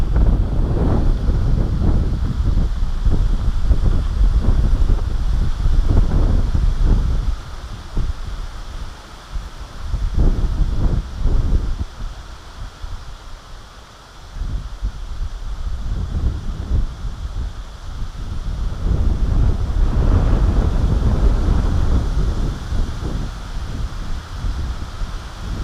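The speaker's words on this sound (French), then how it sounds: "Le vent qu'il y a" Strong, gusty wind on a carp fishing trip buffets a microphone with a loud, steady roar that swells and dips in waves, with no voices.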